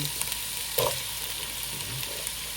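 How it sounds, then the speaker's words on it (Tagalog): Pork ribs fry in a hot pan with a steady, close crackling sizzle, broken by a short stir or clatter of the pieces partway through, and no one speaks. "Wala namang masama kung isabay-sabay yung pagprito."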